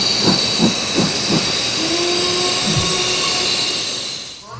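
Train in Nagasaki, Japan, heard close up as a steady rolling rumble with a bright hissing whine overhead, a few rhythmic wheel clacks early on, and the noise easing slightly toward the end.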